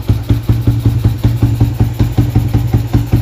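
Rebuilt motorcycle engine with a new head, cam, valve springs, oil pump, hyperclutch and carburetor, idling loud and close with a steady, evenly spaced firing pulse and no talk.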